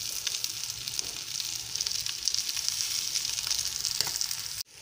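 Fish pieces frying in a pan give a steady, fairly quiet hissing sizzle throughout, with light crackles, and the sound cuts off sharply near the end.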